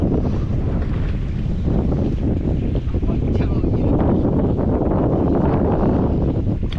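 A north wind blows at sea over a fishing boat, a constant, loud rushing roar buffeting the microphone. Water churns beneath it without pause.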